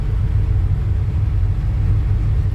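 A Chevy C10 pickup's engine idles in cold weather to warm up, a steady, close, low rumble with no changes in pace and no voices.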